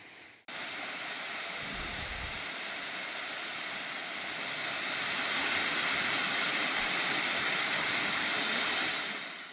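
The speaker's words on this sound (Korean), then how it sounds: "응봉폭포인데요." Eungbong Falls in a Seorak mountain valley, a loud, continuous roar of falling water rushing over rock, steady and close with no voices.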